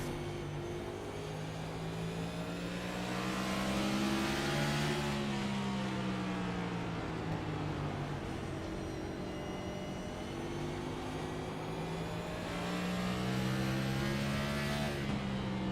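Race car engine in a sim racing game at Wilkesboro, revving high in fourth gear and then backing off, the pitch climbing and dipping in smooth waves, moderately loud and continuous with no talk.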